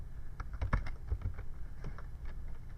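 Typing on a computer keyboard, a short burst of quick, close keystrokes in an uneven rhythm over a low background hum.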